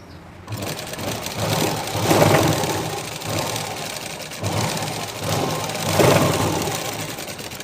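A sewing machine stitches a blouse front piece in a tailoring session, running in several steady bursts that swell and ease, with a low motor hum throughout and no talking.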